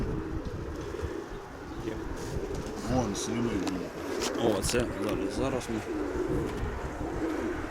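A pair of pigeons, a male and a female, coo in soft repeated rolling calls close by, while people talk over and between the cooing.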